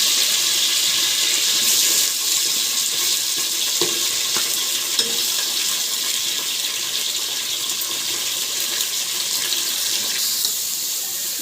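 Onions with mint and coriander leaves fry in oil in a pan for chicken biryani, a dense, steady hiss running throughout with a few faint clinks of stirring, close and continuous, no talking.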